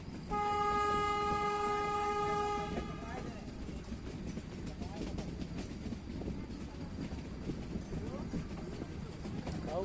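A metre-gauge train bound for Nepalganj sounds a long, loud, steady horn blast for a few seconds, then the passing train keeps up a continuous rumble and clatter of wagons, with some background chatter.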